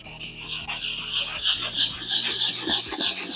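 A car headlight lens is wet-sanded by hand with 400-grit sandpaper in quick repeated strokes, making a close, gritty rasping rub that swells and fades with each pass.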